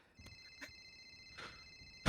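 A phone rings in GTA V NoPixel roleplay: a steady electronic ringtone with sustained tones and a few brief chirps, ending in a louder burst at the close; no talk.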